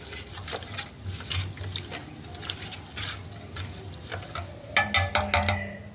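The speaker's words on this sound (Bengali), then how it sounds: "সুজিটা চিনিটা নেড়ে নেড়ে দিতে হবে।" Semolina and sugar are stirred in a pan, with irregular scraping and shuffling strokes at close range, ending in a cluster of sharper clinks and taps, with no talking.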